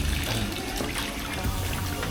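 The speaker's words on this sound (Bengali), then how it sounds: "মাছটা খুব সুন্দর করে ধোয়া হয়েছে" Hilsa fish being washed in water, a steady close rush of running, splashing water over about two seconds with no voices.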